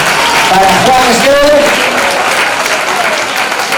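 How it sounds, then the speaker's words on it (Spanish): Studio audience applause on a Spanish TV celebrity impersonation show, loud dense clapping filling the whole stretch while a presenter's voice talks over it. "Aplauso fuerte"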